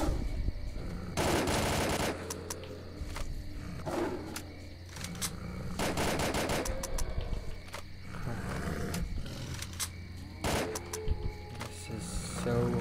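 Bursts of automatic fire from a modified gun in the video game S.T.A.L.K.E.R.: Clear Sky crack out in several loud bursts separated by short pauses, with growling creature roars and faint background noise between them.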